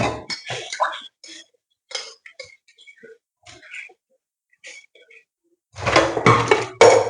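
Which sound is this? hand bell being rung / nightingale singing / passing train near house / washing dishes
washing dishes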